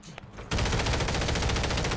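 A sudden, loud stream of rapid automatic gunfire from Call of Duty: Warzone erupts after a brief quiet moment and continues without pause.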